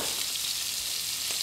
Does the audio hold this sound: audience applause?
no